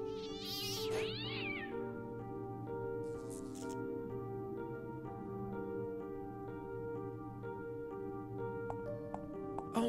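Cat meowing in the video game Fran Bow: a short, loud, high cry at the start, then a steady musical drone with sustained tones that carries on alone for several seconds.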